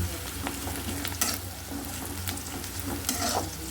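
Onions fry in a pan with a constant close sizzle and occasional scraping stirs, with no voices present.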